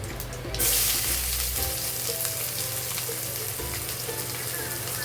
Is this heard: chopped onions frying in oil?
yes